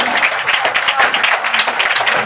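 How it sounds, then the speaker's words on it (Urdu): A church congregation applauding loudly, dense continuous clapping from many hands filling the space at close range, with voices faintly mixed in. "زوردار تالیاں. پریز گاڈ ہاللیلویا."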